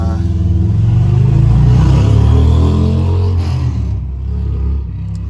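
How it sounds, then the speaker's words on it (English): A motorcycle ridden by someone nearby roars loudly and steadily with a deep engine rumble, swelling in revs before easing off toward the end, heard alone without talk. "average guy driving a bike, being extremely loud"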